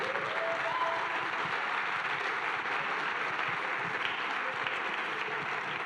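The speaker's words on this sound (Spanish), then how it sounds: "le demos un aplauso de cariño" A church congregation at a Wednesday service claps warmly in a continuous, even wash of applause from many hands, steady and moderately loud throughout.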